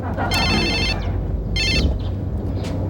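A mobile phone ringtone chimes out in two loud bursts with a short gap between them, heard over a busy background of low hum and murmur, with no clear speech.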